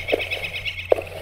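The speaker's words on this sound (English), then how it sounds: "I hear birds" Birds chirp in the video game Estranged, two brief calls close together against a steady low ambient hum, then a brighter call near the end.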